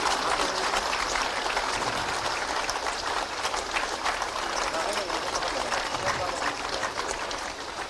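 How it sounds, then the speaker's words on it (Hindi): Thunderous applause from the audience at a government appointment-letter ceremony led by the Chief Minister, a continuous wash of claps sustained the whole time with voices mixed underneath. "और निसंदेह तालियों की गड़गड़ाहट भी स्मृतियों में हमेशा होनी चाहिए।"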